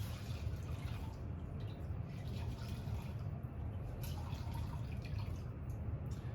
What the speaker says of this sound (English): I'm gonna wring out all the refined water that is inside of this face cloth